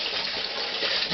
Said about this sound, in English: Add the rest of the sanitizer in here